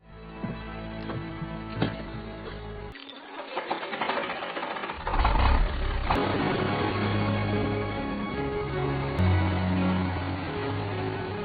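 A tractor engine runs in a film scene set in an abandoned Barcelona, a steady mechanical clatter and drone that starts up partway through and then keeps going loud and continuous under a music score.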